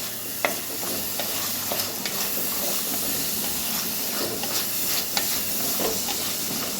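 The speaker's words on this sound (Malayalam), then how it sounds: "ഇത് രണ്ട് മിനിറ്റ് ഒന്ന് വഴറ്റണം" Papaya curry masala sautés in a pan, giving a steady close sizzle and hiss with scattered clicks and scrapes of stirring throughout.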